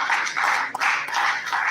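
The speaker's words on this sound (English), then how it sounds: "A round of applause for him," Audience applause for the winner of a national young researchers prize in earth sciences at an academic conference, a steady wash of clapping in bright, dense waves that swells and dips over a couple of seconds with no voices.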